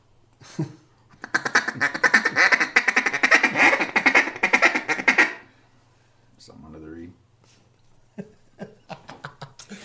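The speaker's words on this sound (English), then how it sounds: "you ask him to blow a duck call, and he sticks the first note" A duck call is blown in a long run of rapid, loud quacking notes, then shorter bursts after a pause, with some low voices and chuckling in between.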